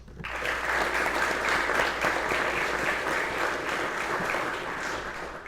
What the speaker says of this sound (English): please give the guest of 1158 a round of applause